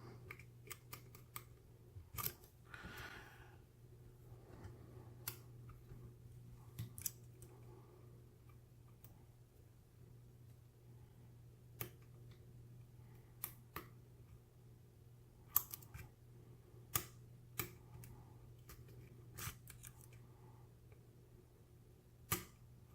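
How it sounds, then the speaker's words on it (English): A lock pick bouncing on the pins of a lock, pushing them toward a false set: faint, irregular tiny ticks and clicks scattered over a quiet, steady hum, close up. "I'm just bouncing on these pins, trying to drive them up until I can get to a good strong false set"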